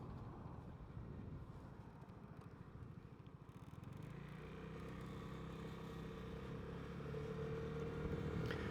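Vespa GTS 300 scooter riding along outdoors, its engine droning steadily underneath strong wind buffeting on the microphone, fairly faint and continuous with no speech.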